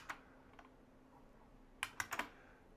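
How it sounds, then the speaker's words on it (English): Keys are typed on a PC keyboard, heard close and quiet, with a few scattered clicks followed by a quick burst of four keystrokes near the end. "We can type in a simple equation on the keyboard here"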